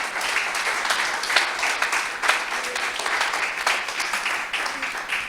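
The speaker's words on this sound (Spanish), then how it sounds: "Dale un aplauso al Señor." Church congregation applauding during a Spanish-language sermon, a dense, sustained roar of many hands clapping, loud and close, with voices and cheers mixed in throughout.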